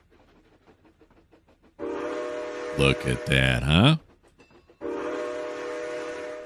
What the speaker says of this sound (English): the automatic whistle should work here